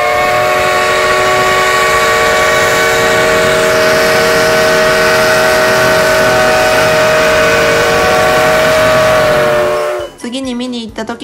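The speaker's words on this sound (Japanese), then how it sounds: "SL を見に連れて行ったんですが、汽笛の音が大きすぎてトラウマに" A loud, sustained steam locomotive whistle, heard near the platform, sounds continuously for about ten seconds, then cuts off into a brief burst of other noise.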